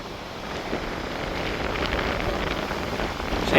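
Strong wind gusts across the Mt Lofty lookout above Adelaide's coastline after storms, a steady broadband roar buffeting the microphone that swells slightly toward the end, with no one talking.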